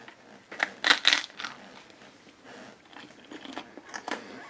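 Crunchy bites into toast topped with heirloom tomato and fresh ricotta, a few loud close crunches in the first seconds followed by quieter chewing.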